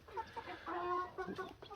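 Short, faint crowing attempts from 90-day-old Birkivska Barvysta young roosters mixed with soft clucking, the calls brief and uneven.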